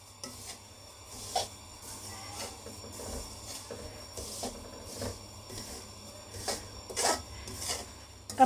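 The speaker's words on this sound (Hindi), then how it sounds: "तिल को बिल्कुल चलाते रहना है, छोड़ना नहीं तिल को" Sesame seeds dry-roasting in a pan while being stirred without pause, giving a steady soft rasping scrape with small rhythmic strokes and faint crackle, close and continuous, with no talking.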